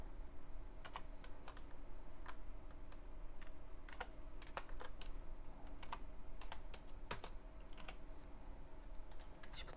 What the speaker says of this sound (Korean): 컨트롤 시프트와 엔터를 동시에 눌러 주십시오